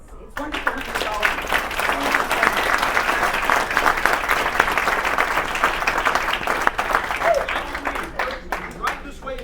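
At a charity event, a crowd breaks into sustained applause that swells quickly, holds strong, then thins into scattered claps near the end.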